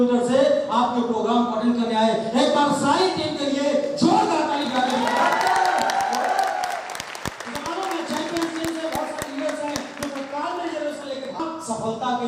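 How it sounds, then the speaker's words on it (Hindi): Scattered clapping from an audience at a marketing company's first anniversary celebration in Prayagraj, loosening into sparse claps under ongoing music and voices. "एक बार सारी टीम के लिए जोरदार ताली बजाइए।"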